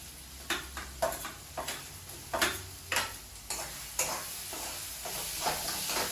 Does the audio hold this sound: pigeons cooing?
no